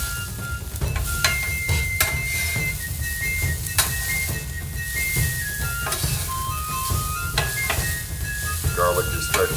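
Garlic and shallot frying on a 1600W Vevor electric flat top griddle: a steady close sizzle with occasional scraping and light clinks of a utensil, no voices.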